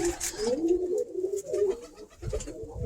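A Birmingham Roller cock pigeon coos in low, rolling phrases close by, repeating steadily with brief pauses between calls.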